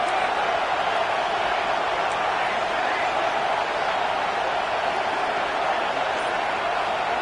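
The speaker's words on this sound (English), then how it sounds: "Here comes this home crowd as the defense tries to get off the field on 3rd down" A home crowd roars in a college football video game as the defense faces third down, a dense, steady wash of cheering that stays loud and unbroken throughout.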